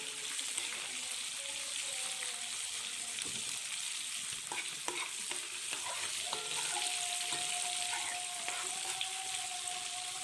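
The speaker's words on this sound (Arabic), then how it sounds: "على ما القراميط بتتحمر معانا" Catfish fry in oil with a soft, continuous sizzle and scattered crackles and stirring clicks, fairly quiet and close, with a faint tone drifting in partway through and no talking.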